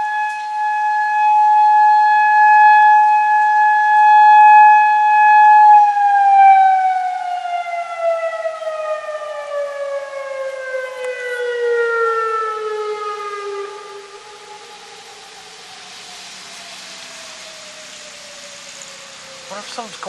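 Malfunctioning city warning sirens sound a loud, sustained wailing tone that holds steady, then slides slowly downward in pitch and fades to a fainter drone, heard alone with no other sounds.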